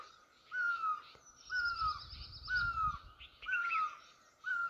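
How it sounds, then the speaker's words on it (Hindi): An Asian koel calling from a tree branch in a hill village, its clear repeated whistled notes rising at a steady rhythm, fairly distant, over a faint wash of other birds and low rustling. "ऊपर डाली में कोयल कूक रही है"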